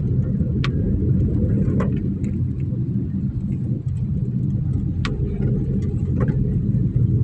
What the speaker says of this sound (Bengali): রাস্তা অনেকটা বৃষ্টির জন্য চালাতে বিঘ্নিত হচ্ছে